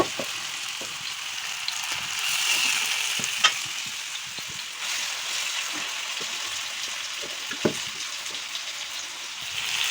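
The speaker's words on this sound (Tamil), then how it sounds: "மீனை வறுக்க போகிறேன்." Fish frying on a hot dosa pan: a steady, soft sizzle and crackle runs throughout, with a few sharper pops and spits standing out along the way.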